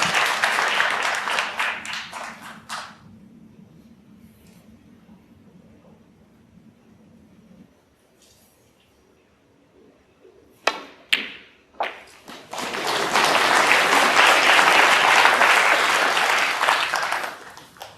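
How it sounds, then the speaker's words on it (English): Scattered applause at a snooker tour championship quarter final, an opening patter of clapping that dies away into quiet hall ambience, a few sharp knocks, then a fuller, sustained round of clapping near the end. "The smattering of applause you might have heard from table 2"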